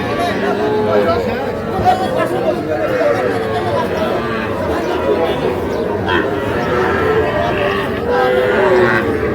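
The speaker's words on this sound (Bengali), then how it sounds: "একটা ষাঁড় বাচ্চা।" A bull calf at a busy rural cattle market at Ambari haat in Bangladesh moos in long, drawn-out calls close by, while crowd chatter and bargaining voices run underneath the whole time.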